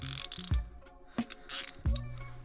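A T27 bit socket on a ratchet turns steering wheel screws loose on a 1999 Camaro. Several short bursts of close ratcheting clicks come with a few dull knocks and pauses between them, and no one speaks.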